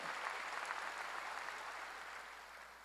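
A church congregation at a revival meeting breaks into steady applause, a dense even patter of many hands that stays fairly quiet and fades gently toward the end.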